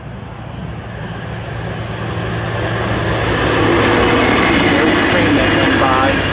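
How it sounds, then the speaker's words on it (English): Passing train rumbles nearby outdoors, a broad roaring wash that swells louder over several seconds and then holds steady, with a low rail hum beneath and no talk. "There's always trains around here."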